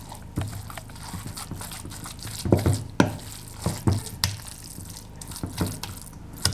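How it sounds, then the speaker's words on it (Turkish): A spoon stirs cold carrots into a salted yogurt carrot salad, making irregular wet, squelching thumps and scrapes close by, with no voices. "Karıştırıyorum."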